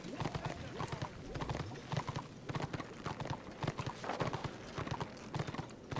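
Steady clip-clop of horse hooves trotting in the online game Return of Reckoning, a brisk even rhythm of sharp hoof knocks, fairly close, with a player talking over it.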